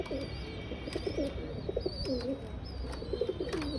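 A pigeon lands on a house and coos in repeated soft, throaty phrases close by, with a few brief higher chirps and light background noise between the calls.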